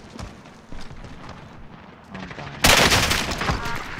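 Enemy gunfire in a video game: steady rapid shots under a speaking voice, then a sudden louder, denser barrage with a harsh roar that lasts to the end.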